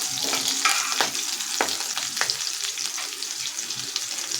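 Chopped green chillies sautéing in a pan for a whole moong dish, a continuous close sizzle with a few sharp spatula scrapes and taps, no speech.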